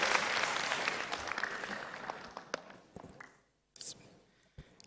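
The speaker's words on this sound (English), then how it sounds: "Please give applause again to our Professor." Audience applause for a professor at an academic conference, fairly loud at first and then thinning to scattered claps, with a brief silent gap near the end.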